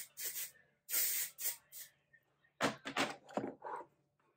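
Several short hissing bursts of an aerosol hair texturizing spray, close by, in quick irregular puffs with brief pauses between them.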